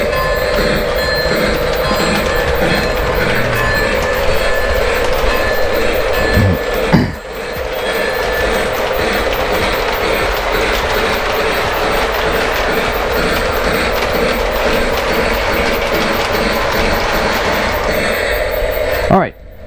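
Model train reversing on a home layout during a switching move, a steady rolling mechanical hum with faint rhythmic clicking of wheels on track, continuous and close, broken by one brief knock partway through.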